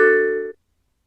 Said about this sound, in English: A notification will also appear on your screen telling you that you have a new message. Plus, you will hear this chime.